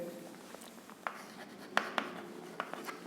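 Marker or chalk writing on a board during a Grade 9 maths lesson on lines and angles, a series of short scratchy strokes and taps spread unevenly over a few seconds, close and fairly quiet with no talking.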